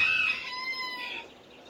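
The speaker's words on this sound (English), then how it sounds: "But the interesting thing is, Aslan is a rooster" A Suriname-mix rooster crows close by, a short, bright call that fades over under two seconds.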